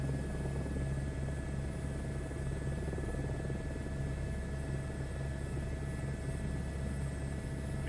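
Steady rotor and turbine drone of a helicopter in a VR flight game, a continuous even whir with a constant engine hum holding at moderate level throughout, with no talk.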